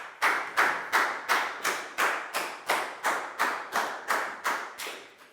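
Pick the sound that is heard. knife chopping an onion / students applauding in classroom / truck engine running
students applauding in classroom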